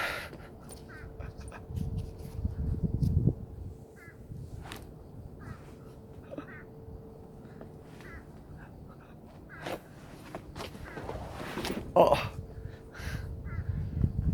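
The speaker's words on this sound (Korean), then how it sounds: "까마귀 오네요. 여러분 들리는지 모르겠네." Crows caw repeatedly in an autumn forest, short harsh calls scattered across the scene at moderate distance, with footsteps and a person speaking softly at times.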